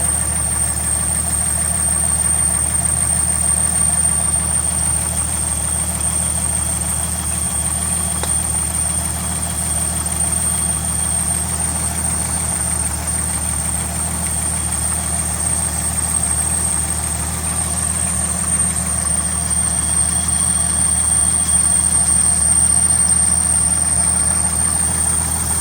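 An engine idles steadily at close range with a low, continuous rumble and a faint high whine above it, unchanged throughout with no revving.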